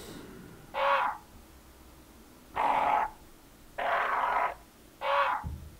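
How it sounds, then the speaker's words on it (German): Four harsh, drawn-out raven caws in the video game Resident Evil ring out one after another with short pauses between them, loud against a quiet, faintly humming background. "Raben sind das, ne? Ja, sind die Raben."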